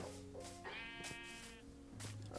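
In Minecraft, a sheep on a village sheep farm bleats several times in a row, with long wavering cries that stand out clearly over quiet background sounds.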